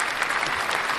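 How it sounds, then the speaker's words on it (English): Brief burst of steady audience clapping during a talk show segment, dense and continuous throughout. "Applause for me. Round of applause."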